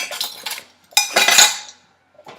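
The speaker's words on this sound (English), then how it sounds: "Got the cookie sheets, non-stick cookie sheets." Non-stick metal cookie sheets handled in a kitchen, two loud, close clattering bursts of metal clanking, followed by a brief faint clink.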